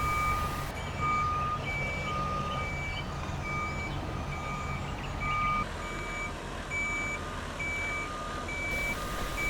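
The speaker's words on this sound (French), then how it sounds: "poursuivre la manœuvre en reculant, toujours à contresens, en direction d'Angers" A truck in a wind turbine transport convoy reverses against traffic toward Angers, its reversing alarm beeping steadily in even pulses over a loud, continuous diesel engine rumble, close by with no speech.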